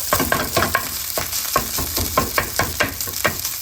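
Rice sizzles in oil in a heated frying pan as it is stirred, with repeated scraping strokes over a constant loud frying hiss, close and without talk.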